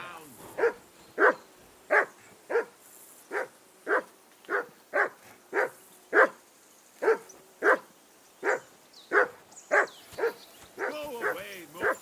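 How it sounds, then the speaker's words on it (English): A hound barking in the medieval game Kingdom Come: Deliverance 2, about twenty sharp, evenly spaced barks close by. A few higher yips and whimpers come near the end. "Be quiet, you bloody bit hound."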